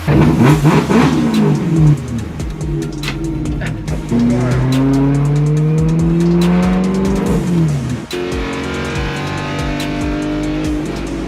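A 2013 BMW E92 M3 track car engine roars and revs hard with rising and falling pitch through gear changes, tires squealing, loud and close throughout.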